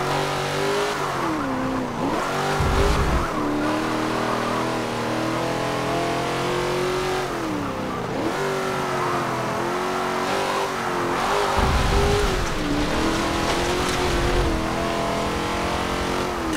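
Supercar engine racing in the video game Forza Motorsport 7, a loud continuous engine roar whose pitch climbs and drops repeatedly through gear changes and revs, with no talking.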